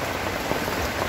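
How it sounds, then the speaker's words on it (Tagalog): Heavy rain drumming on the roof of a hut, a dense continuous close patter and hiss with no voices. "Tulad ngayon, malakas yung ulan."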